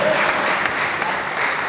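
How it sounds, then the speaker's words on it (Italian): Short stretch of dense applause from the audience at a football club press conference in Mazara, steady clapping filling the room at close range. "vorrei che si facesse un grande applauso."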